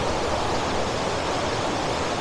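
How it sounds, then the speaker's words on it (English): A waterfall along a river, roaring as a loud, continuous wash of broadband water noise, close and unbroken, with no voices. "And there's the beautiful waterfall"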